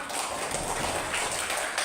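Schoolchildren clapping their hands in a classroom, a quick burst of many small hands tapping together, brief and fairly close.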